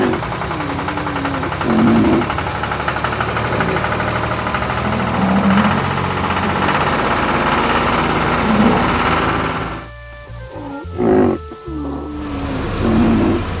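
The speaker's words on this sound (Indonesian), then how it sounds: "Traktor dan trailer sedang bekerja keras mengangkut tanaman segar" A tractor engine pulling a trailer of crops runs steadily with a low, chugging drone and a few brief dips and surges in loudness.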